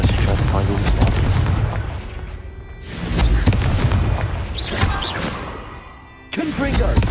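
Repeated Confringo blasting spells explode in Hogwarts Legacy while vases are smashed, loud booming bursts recurring every few seconds over low rumbling, with someone talking between them.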